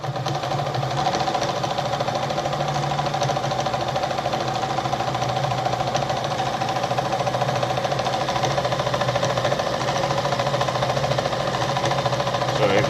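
An Adler 489A sewing machine runs steadily while sewing a fine stitch with the needle set to the middle position, giving a loud, continuous, even mechanical hum and rapid needle chatter with no pauses.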